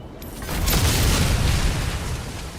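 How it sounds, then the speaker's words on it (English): A deep, rumbling explosion booms as a cannon is destroyed in a video game, a broad blast that swells within the first second and keeps roaring loudly for the rest of the clip. "The last cannon has been destroyed."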